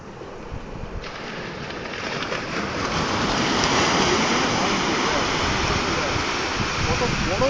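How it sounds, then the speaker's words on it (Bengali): Big sea waves break at Haripur beach near Digha, building into a loud, continuous roar of surf that swells slightly and then stays full and close. "কত বড় ঢেউ এখানে ভাঙছে"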